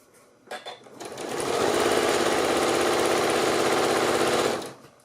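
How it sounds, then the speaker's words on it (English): A sewing machine stitches down a pleated three-layer fabric face mask, starting up after a second and then running in one steady, loud, close burst for about three and a half seconds before stopping. "And then I'm just going to stitch down."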